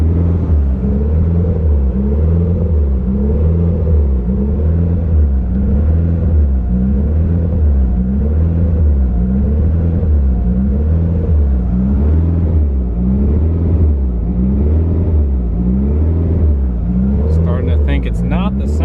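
A car engine runs at a raised idle, rumbling loudly with a rhythmic surging rise and fall as it hunts for a steady idle, with a voice briefly audible near the end.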